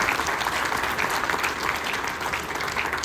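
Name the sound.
audience applause at sheriff debate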